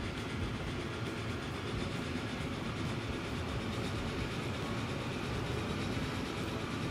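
A train runs along the rails in the Transport Fever 2 video game, a quiet, continuous rumble with faint rhythmic clatter and no talk.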